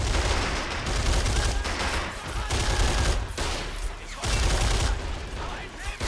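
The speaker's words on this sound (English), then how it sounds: "This machine gun is just firing into the ranks here" Sustained machine gun fire in the World War strategy game Men of War: Assault Squad 2, dense rattling bursts with short gaps, loud and continuous amid battle noise.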